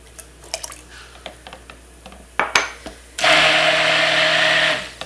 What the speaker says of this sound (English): And I will blend this up.